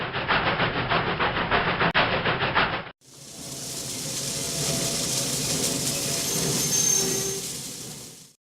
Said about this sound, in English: The new engine was a nickel-plate road Hudson locomotive.